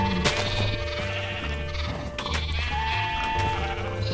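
Sheep bleat in the Minecraft video game, several wavering nasal cries layered over steady background game music, loud and close.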